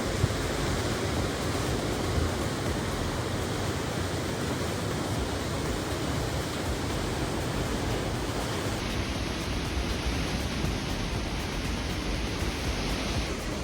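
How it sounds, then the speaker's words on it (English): Ocean waves surge into the Devil's Churn, a narrow rock inlet on the Oregon coast, forming a dense, steady wash of broadband roar that holds at an even level without clear breaks. "It's super cool watching the waves come in."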